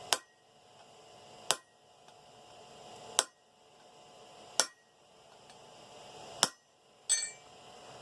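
A hammer drives a chisel into the jaw of blacksmith-made wolf jaw tongs to deepen a groove, giving six sharp metallic strikes spaced about every one and a half seconds, each ringing briefly before fading, close and alone.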